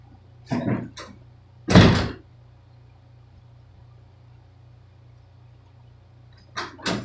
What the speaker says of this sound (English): Now I got my door closed. No idea how hard that is without a handle